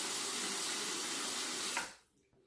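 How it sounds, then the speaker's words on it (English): Tap water running steadily from a faucet to wet a razor, a close, continuous hiss that cuts off as the water is shut off near the end, with no talking. "And let me wet the razor here."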